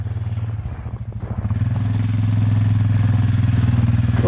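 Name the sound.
four-wheelers driving around a yard course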